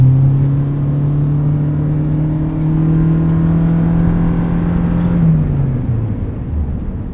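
A 2024 Toyota Prius Limited AWD hybrid driving on a snowy road, heard from inside as a steady low drone and tire rumble with a slight pitch drop near the end, no talk.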